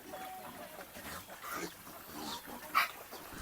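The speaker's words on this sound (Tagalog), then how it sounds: "Ayan yung mga baboy natin." Pigs in a simple piggery with a bamboo fence grunting and snuffling while they eat, a busy jumble of low grunts and squeals at moderate distance, with a sharper squeal near the end.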